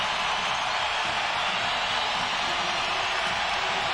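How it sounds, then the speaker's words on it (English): Basketball arena crowd at the United Center during a 1997 Bulls vs Spurs game: a steady, dense roar of many distant voices, unbroken and even throughout, with no single voice standing out. "Crowd starts to make some noise here at the United Center."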